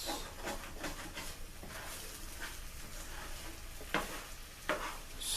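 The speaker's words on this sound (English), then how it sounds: "now we're going to begin scrambling our eggs just like this" Eggs are scrambled and stirred in a sizzling frying pan for a breakfast wrap, with soft scraping strokes over a steady hiss and a few sharper taps of the utensil.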